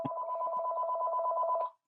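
A house telephone rings with one continuous warbling electronic trill lasting under two seconds. It sounds moderately quiet and clear, with no talk over it.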